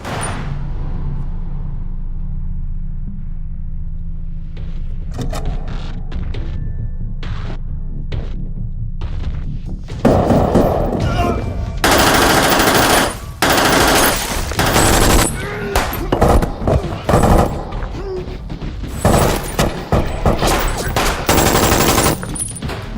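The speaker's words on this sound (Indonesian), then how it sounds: "Sempat tertembak dan terdesak, namun Yongdu yang sudah membulatkan tekadnya kembali bangkit dan menghabisi semua musuhnya" Rapid bursts of gunfire in a film fight scene, starting after a low droning hum and then erupting into loud, dense volleys and scattered single shots with no talking.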